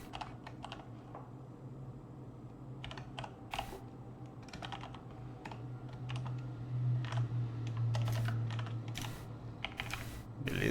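Keys clack steadily on a computer keyboard in bursts of typing, a low hum running underneath throughout, with no talking.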